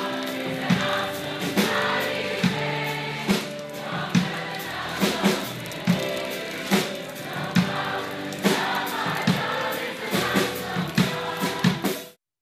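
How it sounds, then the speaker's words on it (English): A large outdoor rock concert crowd sings together in the rain, a dense, loud wash of many voices with steady rhythmic accents and music running throughout. "this is a clip of the crowd singing in the rain"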